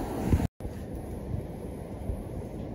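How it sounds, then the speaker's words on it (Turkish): Wind blows at the seaside in Çeşme, a low, rumbling buffet across the microphone, steady and moderate, broken by a brief dropout near the start. "Hala çok rüzgarlı."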